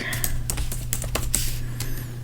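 Quick bursts of clicking keystrokes on a computer keyboard as a command is typed, close and irregular with short pauses, over a faint steady hum.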